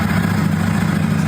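A motorcycle engine idles steadily after its immobilizer security system has been bypassed, a loud, continuous low rumble with no talking over it.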